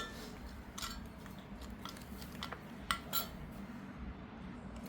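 A spoon clinks and scrapes in a bowl as amla powder is added and stirred, making faint, intermittent metallic taps with a soft scraping underneath.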